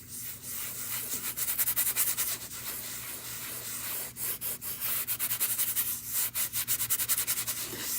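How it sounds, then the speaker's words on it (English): Wax being rubbed by hand over a stencilled painted piece, a steady soft scrubbing with rhythmic strokes running throughout, close and moderately loud, no talk. "I'm going to seal over this a little bit with some wax."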